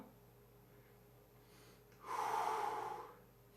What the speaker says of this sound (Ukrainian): Глибокий вдих через ніс і видих через рот